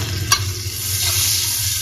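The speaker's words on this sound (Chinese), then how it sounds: "然后锅中留少许油，把姜片和辣椒倒进去，" Ginger slices and chili stir-frying in a little oil in a wok, with a steady close sizzle and a quick scrape of the spatula near the start.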